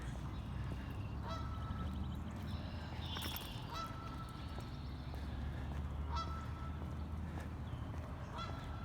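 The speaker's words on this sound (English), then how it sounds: "Here's some geese." Geese honking repeatedly at a distance over a steady outdoor background rumble, the calls scattered and irregular.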